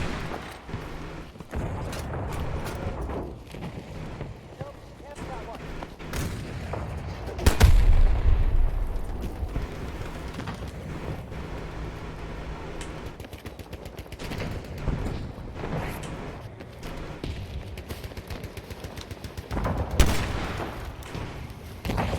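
Rapid bursts of old-school rifle fire and booming artillery blasts in a Battlefield 2042 Portal match recreating Battlefield 1942, loud shots and explosions recurring irregularly over a continuous battlefield din.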